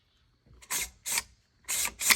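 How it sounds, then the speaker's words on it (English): An AR-15 rifle bolt cycled by hand, four short metallic sliding clacks in two pairs, close and fairly quiet, with a greasy, slightly rough action. "not the smoothest bolt, but cycles nonetheless"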